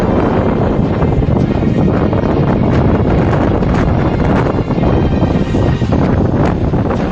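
Strong storm wind at the Digha coast, with heavy rain and sea waves, roars as a loud, continuous broadband rush buffeting the microphone for the whole stretch.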